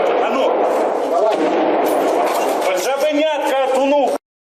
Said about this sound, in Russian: Стрельба на передовой практически не затихает ни на минуту.